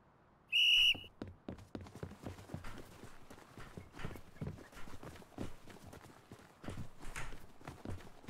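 A single sharp whistle blast starts a horse race in a video game, followed by a rapid, steady clatter of hooves as horses break into a run.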